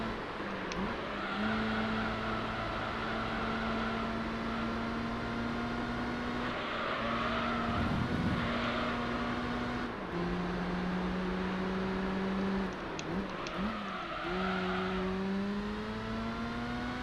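A Mazda RX-7 race car in Gran Turismo 3 being pushed hard through corners, its engine note climbing and dropping in pitch as it revs, shifts and brakes, loud and continuous with no talking.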